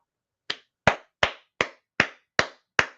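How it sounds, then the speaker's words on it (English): Seven sharp, evenly spaced hand claps ring out alone in a quiet room, each a crisp isolated smack with no crowd or voices around them. "There's a round of applause for you guys."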